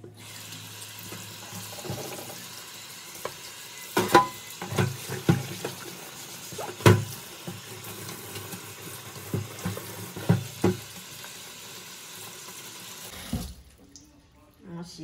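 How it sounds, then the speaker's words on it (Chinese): Tap water runs into a sink while seafood and meat are rinsed by hand, with irregular splashes and clatter over a steady flow that cuts off near the end; a faint voice is heard at times. "把一些脏东西跟血水都先粗略的洗一洗"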